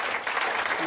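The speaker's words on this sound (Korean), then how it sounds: "환영의 박수 한번 보내드립니다." A brief burst of welcoming applause from a crowd at a Korean political party's provincial chapter launch, dense and steady, heard alone with no voices.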